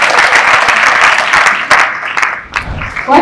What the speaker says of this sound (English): a round of applause to our guests as they sit down